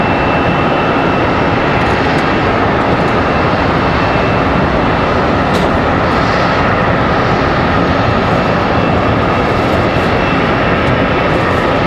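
An airliner in AirCal livery passes at Charlotte Douglas airport, a loud, steady broadband jet roar that fills the whole stretch without letup.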